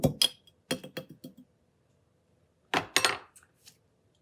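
Metal tool striking and chiseling at rock candy crystallized hard inside a glass jar, sharp clinks in two clusters of quick taps separated by a pause, close and loud.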